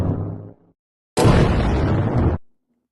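A booming explosion sound effect played as a stream alert: a heavy, loud blast with a rumbling body lasting over a second and cutting off sharply, preceded by a brief low rumble and a moment of silence.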